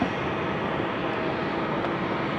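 Airplane engines at Haneda Airport with departures on a distant runway, a broad steady roar filling the whole stretch without change, distant but strong, with no voices.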